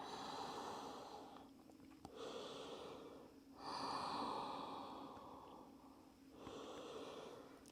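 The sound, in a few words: slow breathing during yoga child's pose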